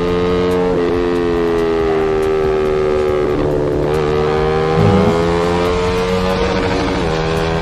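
A motorcycle with an aftermarket exhaust pipe revs hard toward high RPM, a loud, sustained engine tone whose pitch climbs and shifts steadily, close and alone without talk.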